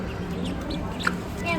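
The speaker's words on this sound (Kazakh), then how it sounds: "Тауықтарды көрдіңдер ма?" Farm chickens cluck close by in short, repeated bursts, with people talking faintly in the background.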